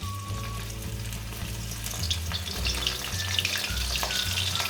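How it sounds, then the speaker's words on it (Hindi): Cauliflower frying in a small amount of oil in a pan, a steady close sizzle with a low rumbling hum and occasional clatter of stirring. "तो इसमें हम गोभी डालते हैं"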